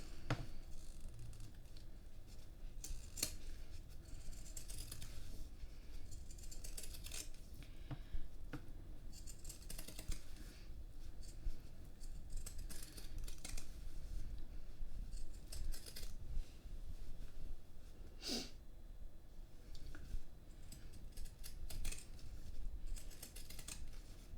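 Scissors snip through fabric seam allowance all around a sewn round bag, a steady run of small crisp cuts and rustles against a low background hum, fairly quiet and close.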